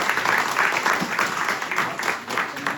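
Audience applause at a retirement ceremony welcoming a retiring mother-in-law, a dense steady patter of many hands clapping close by, with faint voices mixed underneath.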